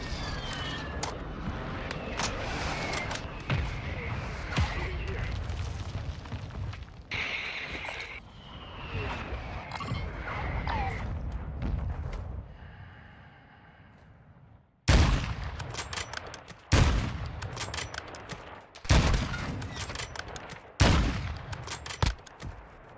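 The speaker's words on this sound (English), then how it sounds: "Friendly mortar strike inbound." Mortar strike explosions in the video game DMZ, a string of loud, sharp blasts landing in quick succession near the end after a stretch of battle noise and gunfire.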